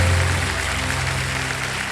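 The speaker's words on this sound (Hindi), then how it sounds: "जोरदार तालियां बजाएं।" The Kaun Banega Crorepati studio audience claps in a steady, even wash of applause that fills the whole moment, loudest at the very start.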